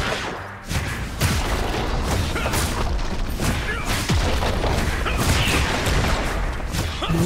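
A League of Legends turret is destroyed amid a dense, continuous wash of booming crashes and rumbling impacts from the game's combat effects, loud throughout with no break.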